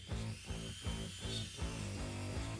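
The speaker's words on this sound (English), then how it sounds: "Sanded off the excess with sanding papers and Dremel sanding bits." Dremel sanding bits grinding down excess CA glue and baking soda filler on a 1/35 scale Tiger mech walker model, a close, quiet rotary whir pulsing in short repeated passes.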